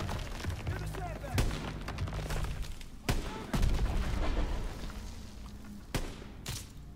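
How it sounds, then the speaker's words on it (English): Gunfire and fusillade from Call of Duty WW2 campaign gameplay, with sharp loud shots and bursts popping repeatedly across the scene over a busy background of battle noise and voices. "Gunfire! We must be near our guys."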